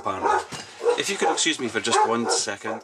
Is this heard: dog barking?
yes